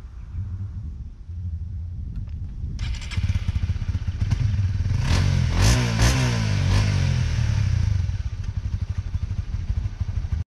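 A 2021 Honda CBR 150R motorcycle runs close by, its engine revving up and holding high before easing back to a steady idle-like rumble, loud and alone.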